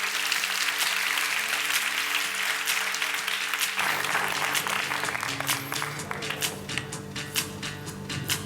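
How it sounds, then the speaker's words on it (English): An audience at the Australian Barista Championship finals applauds a cappuccino set, steady clapping over background music, growing sparser and more distinct in the later seconds. "So a round of applause for Sasa's cappuccino set."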